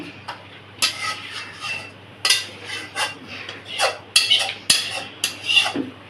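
A metal pot of tilapia and potato curry is lifted off a stove, with repeated clanks, scrapes and knocks of cookware at close range, no talk.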